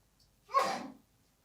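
A single person sneezes once at moderate distance in a quiet room, a short sharp burst that fades within half a second.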